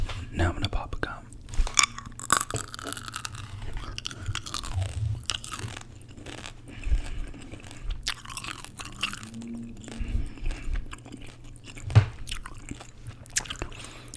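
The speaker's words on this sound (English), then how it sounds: "Gotta get these Mentos. Now I'm gonna pop a gum." Close, quiet chewing of gum and Mentos candy, with soft wet crunches, bites and squishy mouth sounds in an irregular rhythm, with faint whispery breaths between.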